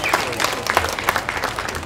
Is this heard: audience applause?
yes